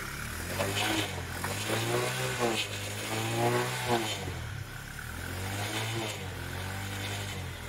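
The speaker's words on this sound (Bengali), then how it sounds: "তো আগে বাইক স্টার্ট নেয় নাকি সেটা দেখি" An LML motorcycle engine started after refuelling and left running, a steady low rumbling idle with a few throttle swells, fairly close.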